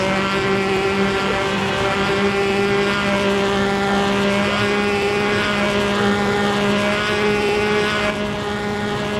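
Race car engines in a Le Mans endurance racing video game, Ford versus Ferrari, hold a loud, steady droning roar that runs unbroken for the whole stretch, with no talk over it.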